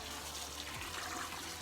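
A tap runs steadily into a pot of peanuts, a soft, continuous stream of water filling the vessel, faint and unbroken with no talking.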